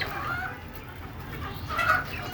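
Desi laying hens cluck in a backyard flock, with soft short clucks early and a louder burst near the end over steady ambient noise.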